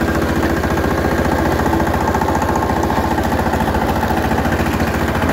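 A new ACI power tiller's engine thumps loudly and steadily in a fast, even rhythm while plowing a field, chugging without a break.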